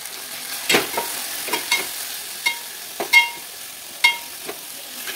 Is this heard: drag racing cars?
no